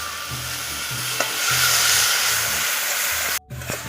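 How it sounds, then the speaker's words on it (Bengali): Spice masala sautéing and sizzling in a pan for a rustic chicken and potato curry, a steady loud frying hiss with repeated stirring scrapes, then a sharp burst as a little water is added near the end. "এবার আমি মশলাগুলোকে খুব ভালো করে কষিয়ে নেব। এবার আমি একটু অল্প করে জল দিয়ে দেব।"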